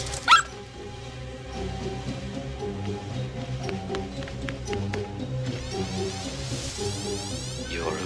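A dog barks and yips in short bursts near the listener, with whimpering tones mixed in over a steady background hum.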